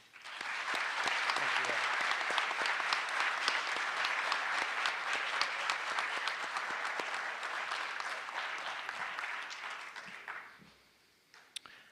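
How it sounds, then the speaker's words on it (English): Honors convocation crowd breaks into sustained, full applause that holds steady for about ten seconds, then thins out and fades to near silence. "Everybody, please join me in a round of applause to show our appreciation"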